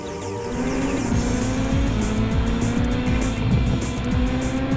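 Racing car engines roar continuously in the video game Gran Turismo 4, pitches sweeping up and down as they rev and shift, with tire squeals over a dense, loud drone.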